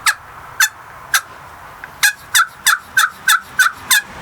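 Turkey pot call roughened with a Brillo pad and scratched with a striker, imitating a turkey: a string of about eleven sharp, raspy yelps, spaced at first and then coming quickly in an even rhythm, close and loud.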